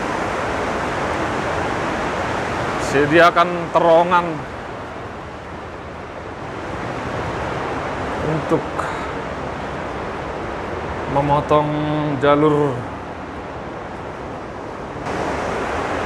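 River water roars steadily through the narrow Grindelwald glacier gorge, a loud, constant rushing wash that never lets up, while someone talks over it in brief bursts.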